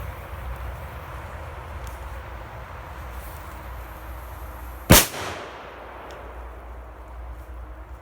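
A single loud, sharp blast from a large 2G+ firecracker, close by, rising out of steady background noise and fading with a short rumbling tail.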